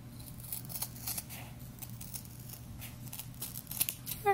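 Scissors snipping through sisal rope line while finishing a sisal rug, a steady run of close, quiet fibrous cuts with faint crackle, with no talking.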